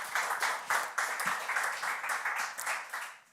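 An audience at a healthtech incubator kick-off ceremony claps steadily, a dense continuous patter of many hands at moderate distance with no talking over it.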